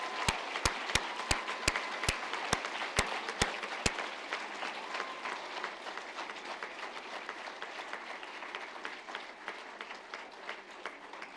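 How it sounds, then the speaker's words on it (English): Applause at a virtual graduation ceremony for prize winners: a burst of sharp, evenly spaced loud claps opens, then thinner scattered clapping continues quietly to the end. "You can all now let rip with some claps."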